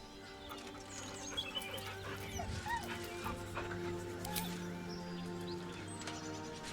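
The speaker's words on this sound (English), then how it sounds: "The dog whimpers nervously, as if to urge you on" In the video game Baldur's Gate 3, a dog whimpers nervously, faint high whines and small yips over a quiet, steady ambient bed with scattered bird-like chirps.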